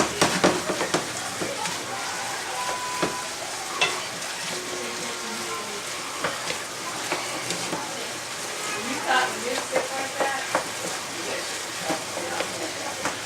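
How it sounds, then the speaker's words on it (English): Raisins and cashews sizzle and crackle steadily in a hot frying pan, a continuous frying hiss with scattered pops and stirring clatter throughout, fairly close. "Okay, they're really starting to sizzle."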